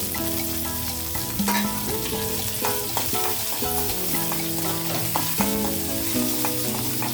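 Cumin, mustard seeds and a dried red chili fry in hot oil for a coconut chutney tempering, a steady close sizzle with light crackles, heard under background music.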